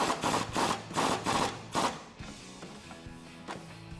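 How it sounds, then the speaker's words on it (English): A socket wrench on a swivel tightens a 16 mm nut during a Mammoth 3-inch front leveling kit install on a 2006-2018 Ram 1500. Several close, rhythmic ratcheting bursts come first, then quieter scattered mechanical clicks, with no talking. "Grab your socket set, grab your 16 socket and tighten that down."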